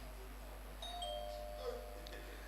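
A contestant's buzzer bell rings at a national tertiary business quiz championship: one clear electronic ding with a short ringing tail, faint in a quiet hall with a low background hum.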